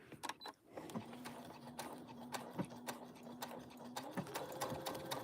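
A sewing machine stitches a bag with a steady mechanical whirr and regular ticking clatter, close and moderately loud, with a few sharper clicks as the fabric is guided along a marked line.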